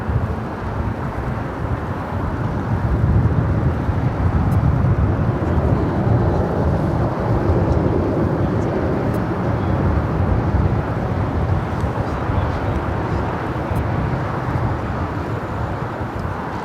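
A large airliner rolls out after landing on runway 25 Left at Los Angeles LAX, a loud, steady broadband roar of engines and wind rushing continuously for the whole stretch with no voices.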